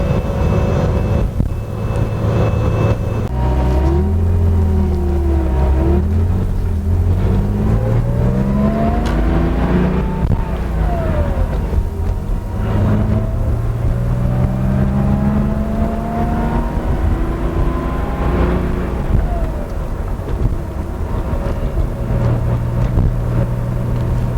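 A Porsche 911 with a freshly string-aligned suspension drives and corners on an empty road. Heard from inside, the engine drones loud and steady, and its pitch rises and falls in repeated sweeps as the car accelerates through the bends.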